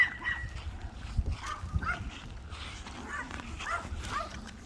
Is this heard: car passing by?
no